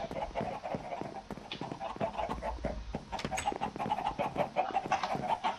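Chickens cluck repeatedly in the Minecraft video game, short choppy calls overlapping in a busy stream, with game footstep-like clops underneath.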